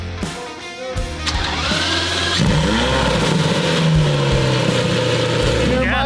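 Lamborghini engines, including an orange one, start and rev loudly close by, a sustained roar that climbs in pitch over several seconds, with people talking over it.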